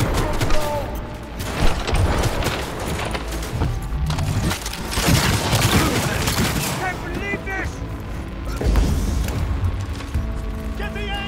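Rapid gunfire in Cyberpunk, loud bursts of shots and impacts packed across the scene, with someone speaking over the din.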